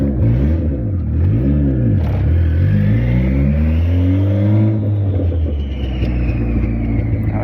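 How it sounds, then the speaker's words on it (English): A turbocharged Honda Civic with a D16Z6 engine revs hard under acceleration on a road, pitch climbing and dropping through repeated rev sweeps, loud and close from inside the car, with no talk over it. "Oh, you hear that turbo though?"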